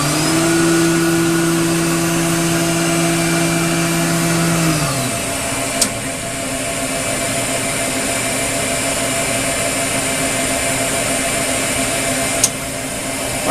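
A Star SR-20RIII CNC Swiss lathe spindle runs about six inches away, a steady mechanical whine that drops in pitch partway through, then settles into a continuous even hum with two faint clicks.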